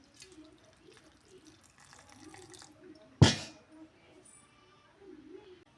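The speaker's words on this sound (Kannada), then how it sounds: "ಸ್ವಲ್ಪ ನೀರು ಹಾಕ್ತೇನೆ." A little water splashes briefly into a grinder jar holding grated coconut and large leaves. There is one short pour amid a quiet kitchen, with soft talking around it.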